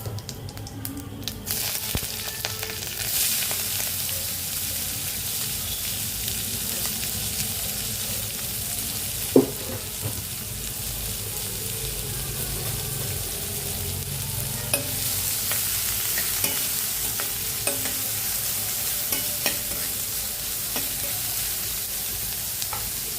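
Onions sizzling in hot oil with cumin in a home kitchen pan, a steady broad frying hiss with occasional scraping stirs and one sharp clink, fairly soft and without talk.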